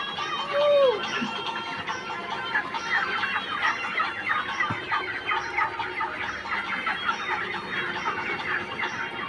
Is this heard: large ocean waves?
no